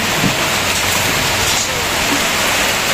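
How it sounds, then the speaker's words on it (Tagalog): Heavy rain pours down in a dense, loud, unbroken hiss with no pauses, filling the whole stretch evenly. "Tingnan nyo, umulan na naman."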